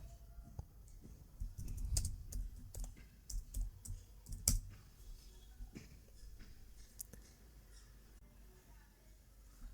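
Typing on a computer keyboard to enter a chat message: irregular quiet clicking keystrokes in short bursts, close but soft, with a brief pause before lighter taps.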